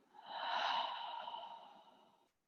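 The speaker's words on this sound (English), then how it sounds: "Twice more, inhale fully. And exhale." A person breathes out fully during a yoga flow, a single long, close, airy exhale lasting about two seconds before fading to silence.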